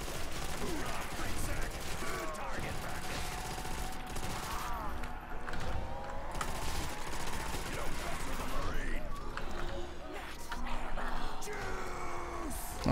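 Machine gun fire in Call of Duty: World at War zombies on a custom mansion map, with bursts of gunshots over a busy, dense game soundscape and a player talking at times.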